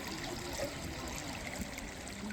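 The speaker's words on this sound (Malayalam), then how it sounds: "ഈ ഒഴുക്ക് തന്നെ, വെള്ളം ഇങ്ങനെ പോണാണ്" Steady trickling and gurgling of a river flowing at a riverside bathing ghat, close and even throughout with no voices.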